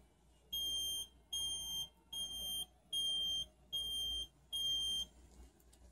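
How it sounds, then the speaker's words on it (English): Six loud, evenly spaced electronic beeps from an Arduino Yun IoT button device, each a piercing tone lasting about half a second, separated by short silences in a quiet room. "you can hear that there were six beeps as well."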